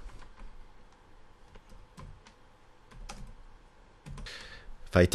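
Typing on a computer keyboard in translation software, with sparse, quiet individual key clicks spaced apart, then a quicker cluster of louder taps near the end.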